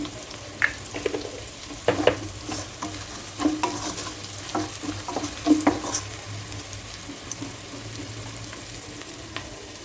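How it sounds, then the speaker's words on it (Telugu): Ginger and garlic sizzle in a pan as turmeric goes in, with irregular spatula scrapes and taps over a continuous close frying hiss and no speech. "అల్లం వెల్లుల్లి కూడా ఫ్రై అయ్యింది ఇప్పుడు ఒక హాఫ్ స్పూను పసుపు వేస్తున్నాను"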